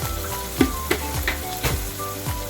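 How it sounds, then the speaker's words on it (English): Garlic and prawn saag frying in a pan, with a steady soft sizzle and several quick stirring scrapes close by. "Again, give it a good stir."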